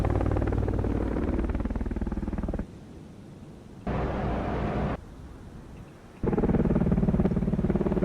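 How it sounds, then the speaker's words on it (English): A helicopter in the submarine game Cold Waters approaches as a steady, throbbing rotor drone that drops away and returns in loud and quieter stretches. "Helicopter's on its way"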